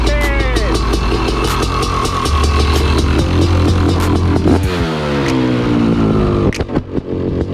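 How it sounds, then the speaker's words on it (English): A 1990 Honda CR500 dirt bike engine runs loud and close, idling with a throbbing pulse and then revving up and down in sharp, pinging bursts. "Got the CR500 fired up. Listen to that ping, baby."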